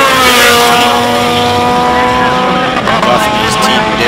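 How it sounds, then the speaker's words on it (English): Race car at the Simola hillclimb, a raw-sounding engine holding a steady high-pitched whine with rising harmonics, loud and close, shifting pitch near the end as it changes gear, with a commentator talking over it. "Another car that sounds all raw."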